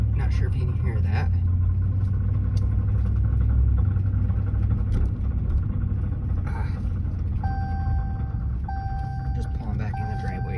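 A 2015 Ram 1500 pickup with a worn wheel hub bearing rolls along at low speed, a steady droning rumble filling the low end throughout, with a voice talking over it and a few faint electronic beeps near the end.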